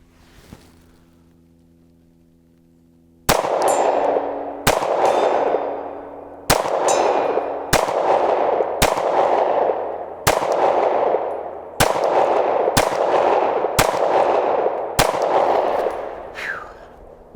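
A Glock 23 pistol fired with open sights, ten loud sharp shots at a steady, slightly uneven pace, each with a ringing metallic tail, after a few seconds of quiet low hum.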